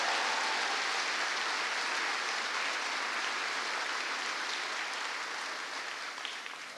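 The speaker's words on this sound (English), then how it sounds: "Give him a big round of applause." Audience applause at a presidential address to troops at the US Army garrison in Yongsan, Korea, a dense and even wash of clapping from a large crowd that holds steady and then slowly eases off.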